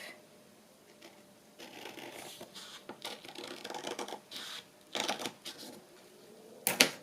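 Stiff scissors chop through book pages in uneven bursts of crisp snips and crunches, close by, with pauses between cuts and a sharp clack near the end.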